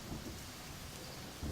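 Rain pours steadily while low thunder rumbles through a stormy scene in an audio drama, faint and continuous with no talking.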